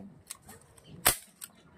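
A magazine snaps into a gun at a glamping campsite shooting activity in Tuba, Benguet, giving one sharp close click amid a few lighter mechanical ticks.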